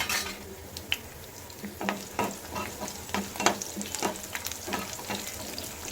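Two slit green chillies frying in two spoons of oil, a soft continuous sizzle with repeated scraping stirs of a spoon in the pan, close and without talk.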